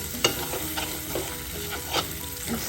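Onions with ginger and garlic fry in a kadai, with a steady sizzle and a few scraping stirs of a spoon against the pan bottom.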